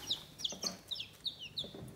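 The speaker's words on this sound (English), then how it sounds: "These are the bantams. We don't know if they're boys or girls yet." Bantam Easter egger chicks cheep and cluck in a quick run of high, close chirps that repeat steadily, with no talking.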